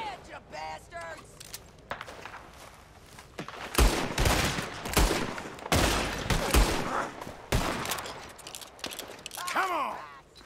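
Gunfire in a Red Dead Redemption 2 shootout: a dense cluster of loud, overlapping shots over several seconds, mixed with shouting voices and movement, with calmer talk before and after.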